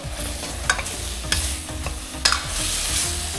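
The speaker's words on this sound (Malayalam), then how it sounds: "ഇതിട്ട് നല്ലപോലെ ഒന്ന് വഴറ്റാം" Vegetables and dal sauté over a medium flame in a steel pan for dal khichdi, with a steady sizzle under repeated close spoon scrapes and a few sharp clanks against the metal.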